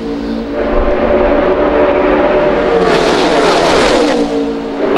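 NASCAR stock cars race at Daytona with loud, sustained engine roar, and a pack of cars swells past with rising intensity toward the end.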